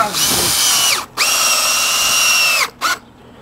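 A power drill drives screws into a deck during a rebuild, two loud, sustained whirring runs with a brief gap between them and a short final burst before it stops.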